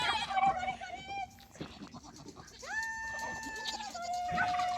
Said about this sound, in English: Oh my gosh, look at all these goats.